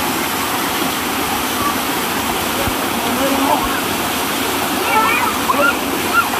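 Powerful waterfall at Kuttralam, a loud continuous roar of heavy falling water filling the whole clip, with a few faint higher sounds near the end.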